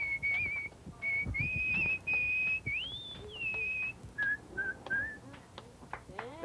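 A person whistles a bright melodic tune in clear sustained notes with gliding pitch changes, fairly close, over a soft background.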